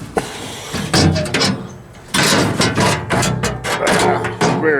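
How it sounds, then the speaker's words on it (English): Heat shield lifted out of an Oklahoma Joe Tahoma 900 pellet smoker, close-up metallic clanks, scrapes and thuds in a few loud bursts with brief pauses between. "let's take this heat shield out"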